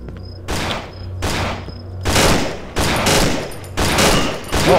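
Gunfire in the horror game Cry of Fear: five or six loud, close shots in an irregular sequence, each ending in a long, noisy decay.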